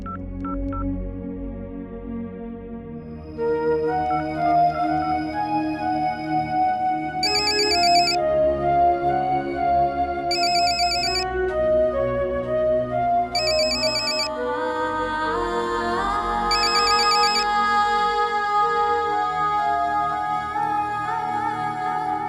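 A telephone ringtone in a Pakistani TV drama, sounding as a steady melodic tune over background music, with bright repeated beeps recurring about every three seconds and no voices.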